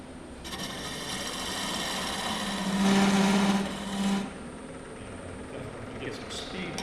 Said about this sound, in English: this time we've got a bowl gouge